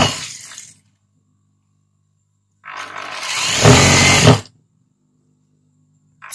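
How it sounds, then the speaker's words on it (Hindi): A sewing machine stitches a kurti sleeve in two short bursts of whirring, the second longer and louder, separated by silence. "तो हम ऊपर स्लीव से सिलाई चलाना स्टार्ट कर देंगे"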